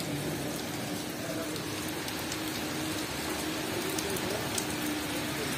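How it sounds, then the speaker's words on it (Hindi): Heavy rain pours steadily over a city in Saudi Arabia, a constant dense hiss of falling water with no pauses, heard from nearby at moderate loudness. "माशाअल्लाह इतनी बारिश हुई है।"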